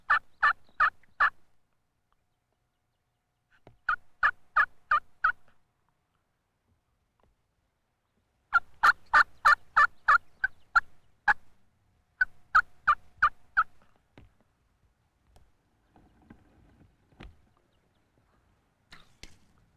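A wild turkey gobbler gobbles in the spring woods during a bow hunt, giving repeated rapid rattling gobble bursts with quiet gaps between them, fairly close and clear with no talking.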